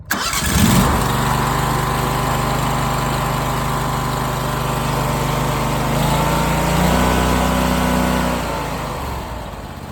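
Pulled with choke and about a quarter throttle, the engine on a Vermeer TS-50M tree spade catches almost immediately and settles into a loud, steady idle at close range, rising slightly near the end.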